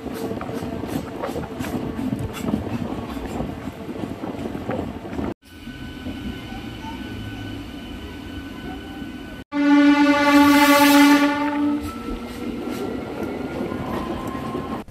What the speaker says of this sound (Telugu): ఉదయం 11:43 మన ట్రైన్ ఘన్పూర్ స్టేషన్లోని ప్లాట్ఫామ్ నెంబర్ 2కు చేరుకుంది